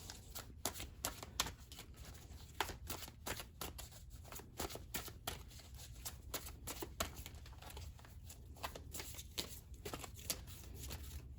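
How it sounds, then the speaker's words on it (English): Continuous papery riffling of cards being shuffled, with repeated quick flutters and snaps, close and fairly loud, no voices. "we're just going to shuffle these up and see if it pops out again"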